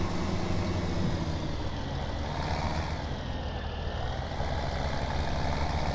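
A tractor engine idles steadily in Farming Simulator 17, a constant low drone at moderate, even volume with no talk.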